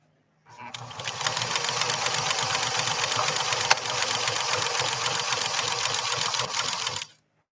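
A Pfaff 360 sewing machine runs in one steady, loud, continuous stretch of rapid needle clatter for about six and a half seconds, starting and stopping cleanly.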